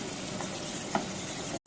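Pangas fish roe sizzles steadily in a frying pan with a dense, even crackle and one brief louder pop midway, then cuts off abruptly at the end.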